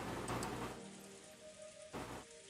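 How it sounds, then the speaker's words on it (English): Steady wind and rain hiss in the visual novel Umineko, quiet and continuous, with a gentle surge near the end and no speech. "In this dim light with a quiet sound of the continuing wind and rain"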